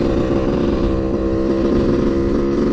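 A two-stroke motorcycle screams at full throttle in fourth gear after a top-end rebuild, a loud, sustained, buzzing engine roar heard up close without talk.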